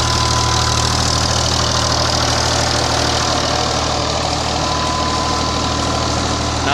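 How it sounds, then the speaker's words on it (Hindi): A BH 480 tractor engine runs at a tube well in Mianwali, Punjab, a loud, steady, close-up idle with a continuous low throb and no voices. "ये हमारा ट्रैक्टर"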